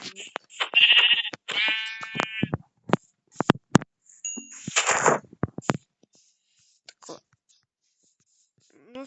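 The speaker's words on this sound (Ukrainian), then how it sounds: "Ось ще одна овечка." Minecraft sheep bleating in short, nasal, wavering calls in the game, several in the first few seconds, mixed with other game clicks and effects.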